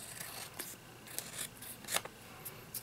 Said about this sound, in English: It just takes a second to trim up the edges